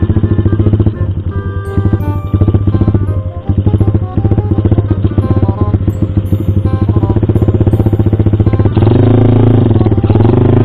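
A loud bored-up Yamaha Jupiter MX motorcycle engine revving hard and rough, continuous throaty roar with rapid firing pulses and surges in pitch, close by.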